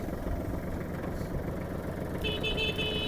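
A Kubota GL-29 mini tractor idles with a steady low engine rumble, then its horn sounds partway through as a sustained, bright, buzzy tone over the running motor.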